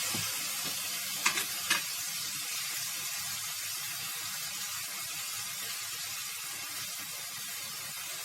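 Fresh fenugreek leaves sizzling steadily in a pan while being stirred, with a couple of sharp utensil clinks near the start; continuous close frying hiss throughout.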